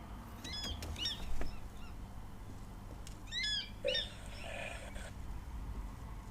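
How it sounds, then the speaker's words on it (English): Recorded calls of an African fish eagle play at a waterhole, a series of high yelping ringing notes in short clusters, moderately loud over a noisy outdoor background. "We kind of heard the fish eagle calling earlier, but I will play this call for you"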